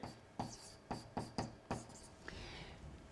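Chalk or marker writing on a board during a chemistry lesson, a handful of short distinct strokes followed by a longer scratchy stroke, close and fairly quiet with no talking.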